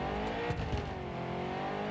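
Lamborghini engine and exhaust in a video game, a steady loud revving drone with layered harmonics holding throughout, rising slightly in a couple of short surges.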